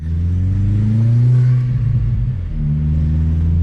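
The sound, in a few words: turbocharged Audi A4 engine, turbo building boost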